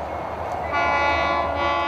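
A mighty freight train rumbles through western Canada with a steady low roar, and a long horn-like tone swells in partway through.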